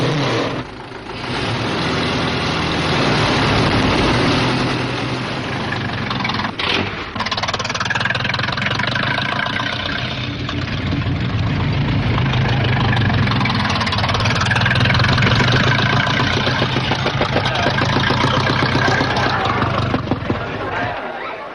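Early Renault racing car engine running among other cars at the start of a historic motor race, a steady rough engine roar with crowd babble throughout, under continuous narration.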